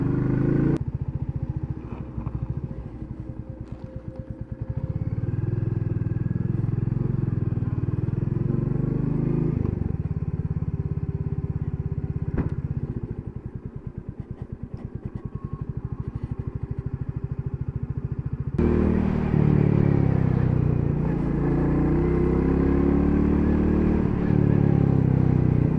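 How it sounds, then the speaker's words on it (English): A Royal Enfield Classic 350 rides over rough mountain terrain on hairpin bends, its single-cylinder engine thumping steadily up close with clattering from the bumpy track, rising again near the end. "What a fabulous little bike this is for this kind of terrain."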